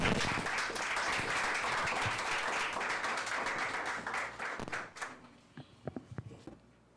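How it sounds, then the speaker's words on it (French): Audience applause at a reading contest, a thick burst of clapping that thins out after about four seconds into a few scattered claps and taps. "écoutons ce texte pour découvrir ce que nos relations peuvent révéler de nous-mêmes avec Fedora sous vos applaudissements"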